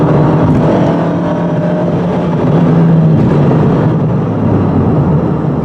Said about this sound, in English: The engine sounds a lot better, too.